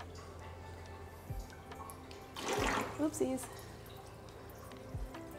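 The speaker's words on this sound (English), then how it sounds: "Let's turn the wave maker on and blast some of the gunk out as well" An aquarium wave maker blasts water at the rocks of an African cichlid tank, giving a brief broadband rush and splash in the middle, with a person talking around it.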